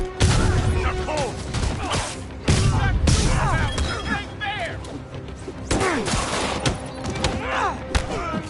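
Rapid bursts of gunfire and heavy thuds crash through a Spider-Man video game fight, loud and close, mixed with impacts and scattered voices over a busy action soundtrack.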